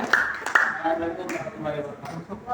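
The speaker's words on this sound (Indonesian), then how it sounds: "Tepuk tangan untuk kelompok satu." A short round of scattered hand claps from students in a classroom, mixed with overlapping speech.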